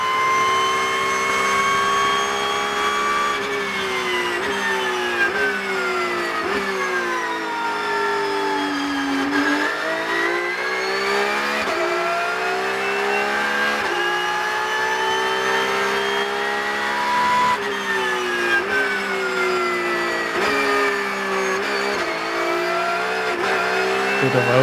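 Porsche Cup race car in qualifying at the Red Bull Ring, heard onboard: a loud, continuous engine note climbs and falls through repeated upshifts and downshifts over about twenty-five seconds.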